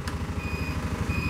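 The turn signal on a Cazador utility vehicle sounds a steady electronic beeping tone that stops briefly and then resumes, over a low engine hum.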